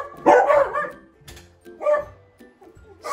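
Dogs bark close by in a few separate bursts, some yippy and higher-pitched, with short gaps between them.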